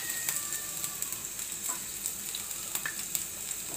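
Garlic frying in oil in a pan for a Bengali potato and red lentil dal, a steady close sizzle with small crackles and pops running throughout, no voices.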